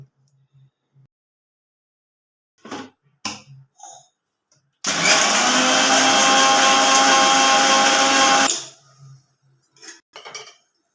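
A kitchen mixer grinder whirs loudly for about three and a half seconds as it grinds peanuts, coriander and garlic. Scattered clicks and handling knocks come just before and after.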